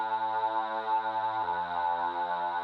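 Drum and bass supporting bass layer produced in Ableton and run through a phaser, a steady sustained synth tone with harmonic stacks that drops lower partway through, played alone with no talk.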